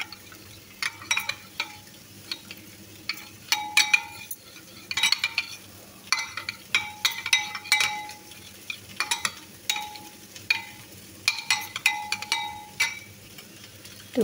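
Oil and black pepper being stirred together with a spoon in a bowl for beef steak, giving repeated light scraping and clinking strokes in quick bursts, fairly close, with no voices.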